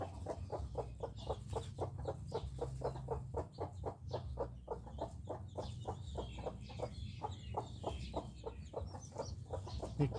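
A mother hen clucks steadily in a rapid, even rhythm through the whole stretch, close by over a low farmyard rumble, with no talk.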